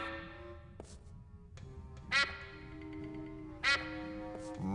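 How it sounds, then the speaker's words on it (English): Duck quacking in the Escape From Monkey Island adventure game: two short, sharp quacks stand out over a sustained, droning musical backdrop. "What kind of weird duck are you?"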